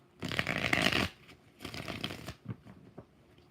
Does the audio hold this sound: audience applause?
no